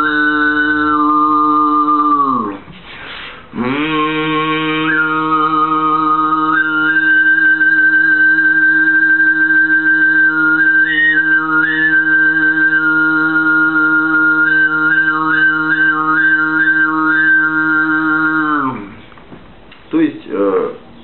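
A single voice performs Northern throat singing (khoomei), holding a steady low drone with a bright whistling overtone melody above it, loud and sustained in long phrases broken by short breaths.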